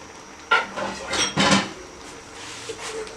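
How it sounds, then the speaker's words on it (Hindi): Dishes clink and a pan clatters as broken eggs go into a pan for a dhaba-style anda masala, with a few sharp knocks in the first half and quieter scraping after. "अब जो अंडे हमने तोड़ के रखे थे वो भी डाल देंगी इसमें।"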